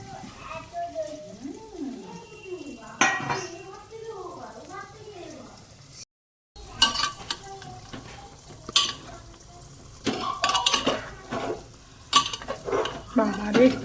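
Vegetables are tipped into a frying pan and stirred in a home kitchen, with clattering, scraping spoon-on-pan strokes and a steady sizzle running under a woman and a child chatting nearby.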